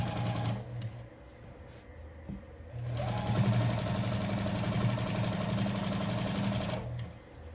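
Sewing machine stitching along embroidery on a quilt, its close, rapid mechanical chatter running in two bursts, a shorter one followed by a pause, then a longer steady run.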